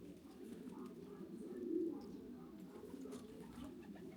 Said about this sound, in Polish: fajnie dzisiaj przylatują te gołębie aż miło je wyczekiwać